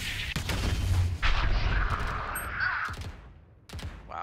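Gunfire in Valorant: several sharp, moderately loud shots in an irregular burst, with game effects ringing between them.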